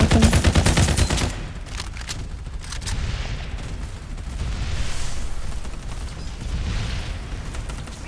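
Rapid bursts of automatic gunfire from the video game Farlight 84 crackle loudly at the start, then give way to a steadier rumble of distant shots and explosions.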